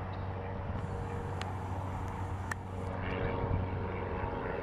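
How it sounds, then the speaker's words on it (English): A steady low engine drone from a propeller plane passing overhead, heard from a kayak on a pond, fairly distant and continuous, with faint outdoor background noise. "And an airplane."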